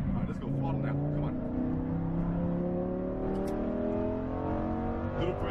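A Lamborghini Huracan Performante pulls hard on a race track, its engine note climbing steadily in rising harmonic sweeps from close inside the cabin, loud and continuous, with a voice briefly coaching over it.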